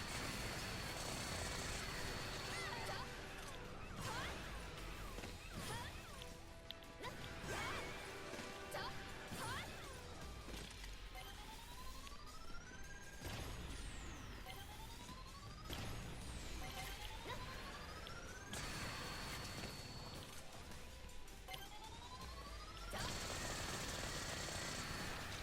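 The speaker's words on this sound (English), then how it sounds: "I always call this thing the tickle cannon." The tickle cannon in Earth Defense Force 5 fires again and again amid a steady din of battle, with rising whistling tones and crashing impacts under continuous game noise.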